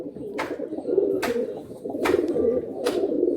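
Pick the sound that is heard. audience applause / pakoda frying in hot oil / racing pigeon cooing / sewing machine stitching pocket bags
racing pigeon cooing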